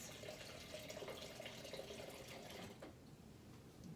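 Stop bath liquid runs steadily from a big jug's lever spout into a container, a continuous close pouring wash that eases off near the end.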